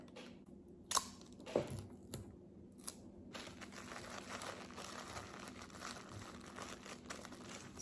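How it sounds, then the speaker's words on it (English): Paper edges being smoothed and folded before a strip of regular tape goes on, starting with a few sharp crinkles and snaps, then settling into a soft, continuous rustling handled close by. "Smooth the edges down, and then fold in the edges, grab the regular tape"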